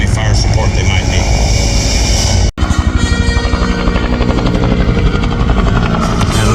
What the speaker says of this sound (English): the attack helicopter will stay overhead, providing any fire support they might need